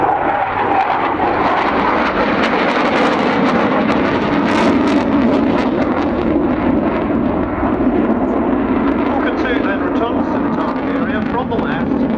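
A Tornado jet flies over during a role demonstration at the Farnborough Airshow 2012. Its loud, continuous engine roar fills the whole stretch while a commentator talks over a public address system.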